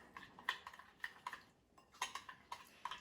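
Spices stirred in a bowl for plant-based breakfast oats make faint, quick clinking and tapping of a utensil against the bowl, in an irregular rhythm with brief pauses.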